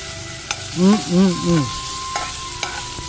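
Bacon fries, crackling and hissing steadily in a pan, with occasional sharp pops and a few short voiced murmurs mixed in.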